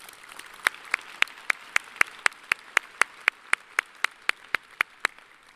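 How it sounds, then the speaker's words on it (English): A graduate hooding ceremony audience gives a round of applause, heard as a single clear, rhythmic clap repeated about twenty times at an even pace against a quiet room. "Please join me in giving a final round of applause to Maria Di Battista and these exceptional faculty mentors"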